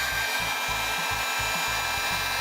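A microwave oven runs with a steady hum, joined by a low rhythmic pulsing throb.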